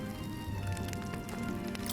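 Night rain in the video game Metaphor: a steady, even patter of rain continues throughout, with faint sustained tones of background music underneath.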